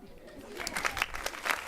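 A small crowd at an upcycled fashion design contest applauds a winner, scattered claps building from faint to a brief burst, with a quiet voice beneath.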